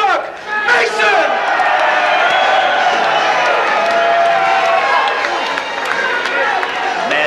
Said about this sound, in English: Mad Dog Mason getting a nice response from the hometown crowd